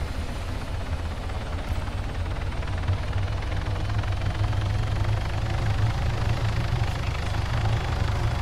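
Helicopter rotor and engine noise dominate, a steady, loud low-frequency drone with thumping texture running throughout without a break and no voices.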